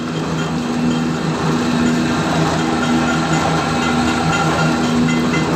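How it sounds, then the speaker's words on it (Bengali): An automatic mustard oil pressing machine runs steadily, a loud continuous mechanical drone with a persistent tonal hum and no breaks. "দেখেন মেশিনটা চলতেছে"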